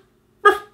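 A person imitates a dog with a single short, sharp vocal bark, close and fairly loud, after a moment of silence.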